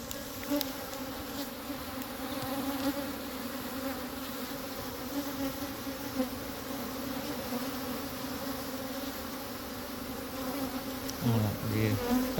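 A swarm of honey bees drones in a dense, continuous buzz close by, steady in loudness with a few nearer fly-past swells near the end, and no voices.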